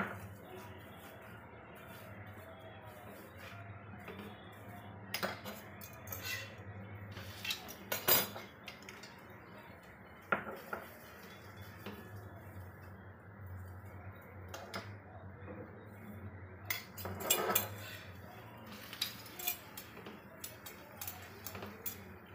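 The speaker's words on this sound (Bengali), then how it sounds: "এই দেখো পাল্টে দেবো, একটু একটু ঘি লাগিয়ে নেবো উপরে" A besan onion paratha is flipped on a pan and spread with ghee, heard as faint, sparse clinks and scrapes of a utensil against the pan. Low kitchen hum runs underneath, with a brief clatter near the end.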